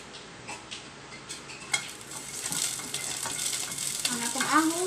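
Garlic sautéing in hot oil for a Filipino vegetable stir-fry: soft scraping and stirring in the pan give way to a rising sizzle that grows louder and steadier toward the end.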